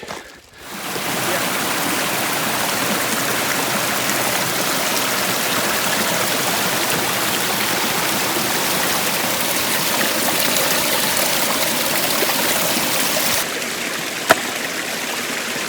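Creek water flows steadily in a continuous broadband rush, close and fairly loud, holding even for about fifteen seconds with a brief click near the end.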